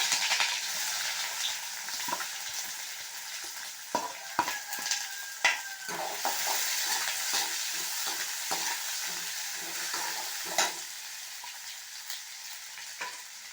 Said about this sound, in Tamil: இப்போ வந்து ஆனியன் பாருங்க நீட் நீட்டாக கட் பண்ணதை சேர்க்குறேன்